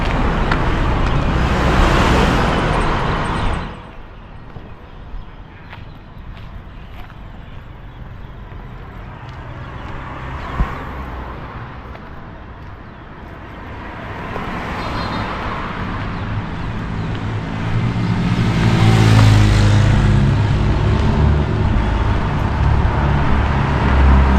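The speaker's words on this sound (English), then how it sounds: "you can hear the sound of traffic." Steady road traffic noise with passing vehicles, louder at the start and swelling again toward the end, a continuous broadband rumble.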